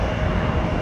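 A loud, steady jet roar from an airplane landing on runway 12 right at MSP airport, heard as a brief, continuous rumble.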